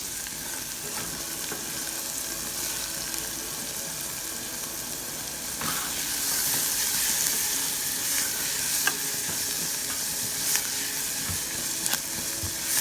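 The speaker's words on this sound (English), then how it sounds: "I'm rendering them down. All that garlic, carrot," Garlic, carrot, onion, green and red peppers seasoned with black pepper and salt sauté in a pan, a constant close sizzle that grows a little louder midway, with occasional light scrapes and taps of stirring.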